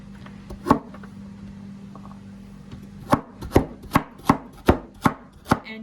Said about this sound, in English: Sorry, it's really loud when I'm chopping.